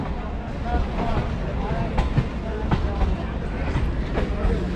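Sealdah–Silchar Kanchenjunga Express rolling into Barddhaman station, a steady close rumble of wheels with periodic clacks over rail joints, heard from a nearby train.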